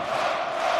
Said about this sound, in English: the partisan crowd playing their part, maybe to just knock Sedlacek off his balance there.